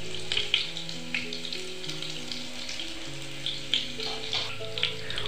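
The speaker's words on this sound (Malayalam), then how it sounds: "ഇതിലേക്ക് 1-2 ചെറിയ ഉള്ളി അരിഞ്ഞതിട്ട് കൊടുക്കാം." Chopped shallots and fenugreek fry in a pan of hot oil for a beans stir-fry, making a steady close sizzle with scattered popping spatters and no speech.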